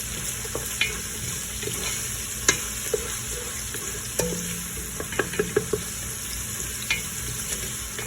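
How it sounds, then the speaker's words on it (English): Onions cooking in hot oil in a pot for a Malawi-style chicken stew, a steady low sizzle with a few sharp clicks and taps scattered through, fairly close and with no voices. "I'm just gonna leave it for like few seconds to cook the onions."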